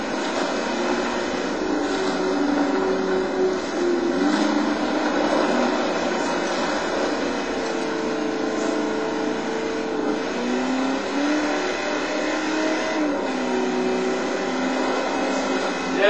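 An off-road racing vehicle's engine roars at full throttle in the Baja: Edge of Control game on the Baja Cabo 500 course, a loud sustained drone with shifting pitch that runs unbroken with no talk.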